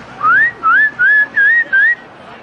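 A referee's whistle in the video game College Football 27 sounds as five short, sharp blasts, each sliding upward in pitch. They come in a quick, steady rhythm, loud and clear with no talking.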